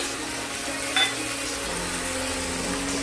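Green chillies, tomato and salt sauté in a pan for khichdi with a steady, close sizzling hiss and one brief clink of a utensil partway through.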